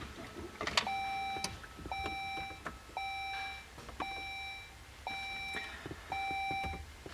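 A Saab 9-3 sounds a repeated electronic chime after its ignition is switched on, six evenly spaced two-tone beeps roughly once per second, close and clear over a low cabin hum.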